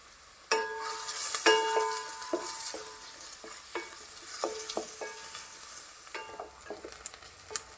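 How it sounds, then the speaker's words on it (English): Onion sautéing in oil in a pan for Goan squid ambot tik, a sizzling fry punctuated by repeated sharp metallic clinks and scrapes of a spoon against the pan, close and without speech. "In order to saute the onion to make ambot tik, I will add oil."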